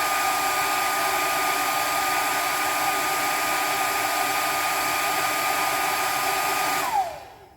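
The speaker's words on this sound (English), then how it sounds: "this was a cheap hair dryer that I got from Walmart." A cheap Walmart hair dryer blows with a steady, loud, close whirring roar that holds unchanged for about seven seconds, then cuts off and winds down quickly into silence.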